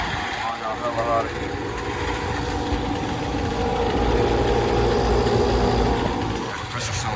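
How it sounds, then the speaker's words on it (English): Outdoor HVAC air conditioner condensing unit, a 5-ton compressor, running at a warehouse with steady broadband droning hum and fan noise throughout, other units nearby, with a brief voice near the start. "That compressor sounds really nice."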